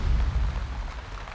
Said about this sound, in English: It started raining 1 hour ago.